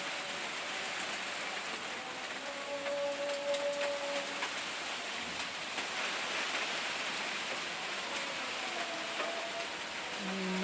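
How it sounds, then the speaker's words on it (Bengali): Steady heavy rain pours outside, a broad constant wash of drops hitting surfaces that runs throughout, with a few faint tonal background sounds mixed in. "অনেক বৃষ্টি হইতেছে"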